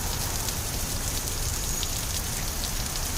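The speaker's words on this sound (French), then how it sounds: "Oh non, il pleut dehors!" Steady rain falling, a dense even hiss of drops on surfaces, constant throughout with no voices.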